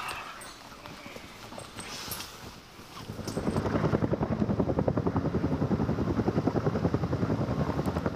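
A helicopter's rotor thumps in a steady, rapid chop that grows louder partway through and holds close and strong to the end.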